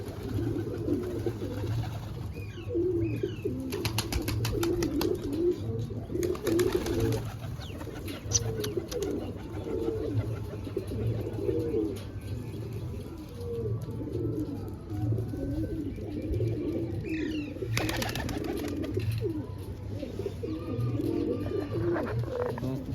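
Desi pigeons coo repeatedly in low, throaty rolls, a steady flock-like murmur continuing throughout with occasional higher chirps and rustles.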